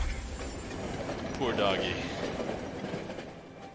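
A train in the video game Monster Train rumbles and clatters at a steady moderate level, with a faint squeal partway through and a voice speaking briefly over it.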